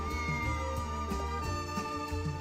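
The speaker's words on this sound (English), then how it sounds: "The peanut gallery heard the meow and is very happy." A cat meows inside a video game, set against a steady, layered backdrop of game music that plays throughout.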